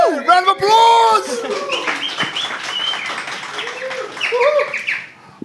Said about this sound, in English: I love that bird. That bird sound was great.